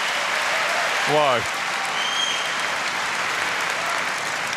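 Crowd applauding after a long women's singles final rally in professional table tennis, with broad steady clapping and one brief exclaimed voice rising over it near the start.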